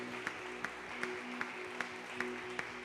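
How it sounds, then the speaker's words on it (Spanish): Sparse church-congregation clapping for Jesus, with a few evenly spaced hand claps ringing out about every half second over a sustained organ-like tone, moderately faint in a reverberant space. "Ese aplauso, si es para Jesús, debe ser mejor que eso."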